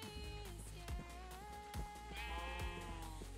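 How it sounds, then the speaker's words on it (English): Sheep bleating in the Minecraft video game, several short bleats from a herd sounding in succession over a steady tonal background, fairly clear and close. "The great sheep migration has turned into great sheep and single cow."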